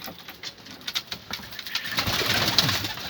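Pigeons coo softly nearby in short repeated bursts, joined by rustling and fluttering toward the end.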